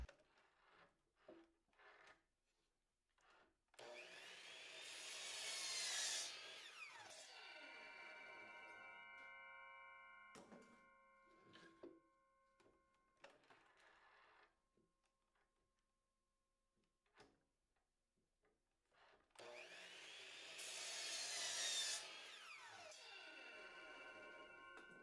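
Power saw cutting wood while building a dome ceiling hub, two distinct bursts of harsh whining cut noise separated by quiet handling knocks, clicks and ringing tones, fairly faint overall.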